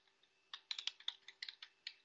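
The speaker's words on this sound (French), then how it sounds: "vous entendez mon clavier" Computer keyboard typing, heard as a run of light, irregular key clicks close by, with several sharper strokes bunched in the middle and no voices.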